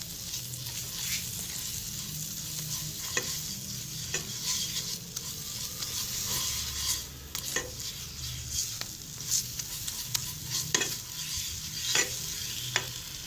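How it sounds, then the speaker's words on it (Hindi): Flour roasting in hot butter in a pan gives a steady, close sizzle, with scattered ticks and scrapes from stirring throughout and no talking. "अब मैं इसके अंदर मैदा ऐड करूँगी, और मैदा ऐड करने के बाद इसे भून लेंगे हम"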